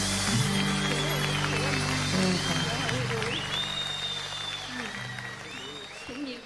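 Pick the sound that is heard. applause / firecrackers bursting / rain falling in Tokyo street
applause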